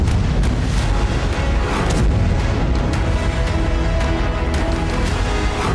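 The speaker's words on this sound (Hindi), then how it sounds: "पानी के भीतर एक जोरदार धमाका होता हुआ दिख रहा है" A loud, deep underwater blast during the Russia-Ukraine war rumbles on as a sustained, heavy roar with scattered cracks and thumps, close and overpowering throughout.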